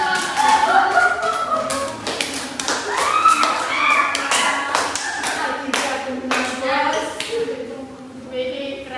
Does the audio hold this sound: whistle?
no